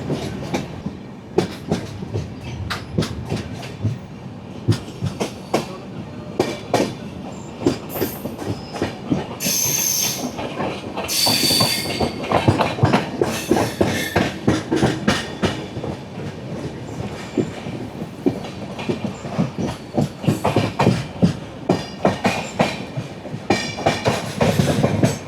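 The 16334 Trivandrum Veraval Express rolls along with a steady rhythmic clickety-clack of wheels over rail joints, a dense rattle of carriages and occasional squeals and hissing bursts, heard from on board.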